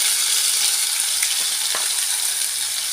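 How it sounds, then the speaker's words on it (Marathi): Ground coconut masala fries in oil in a pan for a crab curry, giving off a steady, dense, close sizzle that holds level throughout with no voices. "त्याला चांगलं फ्राय करून घेते, छान तळून घेते मसाल्याला"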